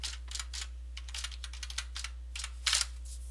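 Fingers typing a password on a computer keyboard, a quick irregular run of light clicking keystrokes close by, ending in a slightly louder cluster of presses, with a low steady hum beneath and no voices.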